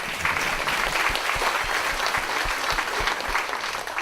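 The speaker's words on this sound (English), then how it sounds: "a big round of applause to welcome our" An audience at a community panel event applauds to welcome guests, one of them from Logan County Community Bank, with steady, dense clapping filling the whole stretch at a moderate, close level.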